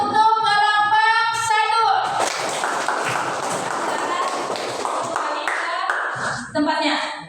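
Audience applause for a discussion group in a classroom session, a dense wash of many hands clapping that swells after a few seconds of speech and carries on steadily, with a voice talking over the start and end.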